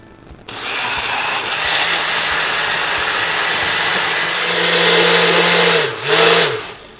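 An electric mixer blends batter with lemon juice, vanilla and condensed milk for a mango avocado cake, a loud steady motor whir that switches on abruptly, dips briefly and revs up again near the end.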